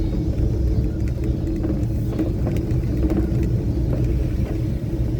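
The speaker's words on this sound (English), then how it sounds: "I'm in second gear right now, and she's going to be lugging a little bit" A 1965 Chevy engine lugs in second gear while driving, a steady low rumble with a continuous drone and faint mechanical rattle, heard from inside the car without speech.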